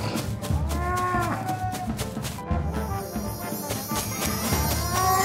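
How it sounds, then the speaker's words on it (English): Cows fleeing from a lion give out repeated lowing moos with rising and falling tones, over a busy background of rumbling hoofbeats and other noise that grows louder toward the end. "The lion is chasing the cows."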